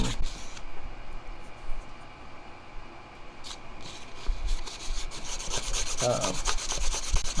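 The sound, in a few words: sanding a wooden spoon with 600 grit sandpaper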